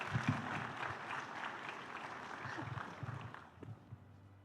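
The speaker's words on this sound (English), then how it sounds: "A huge round of applause." Audience applause at a defence summit on 21st-century warfare, a steady wash of clapping with some background voices mixed in, moderate and sustained for a few seconds before tapering.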